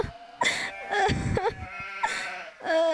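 A sheep bleats several times in quick bursts, fairly close and loud, with a cough-like rasp between calls.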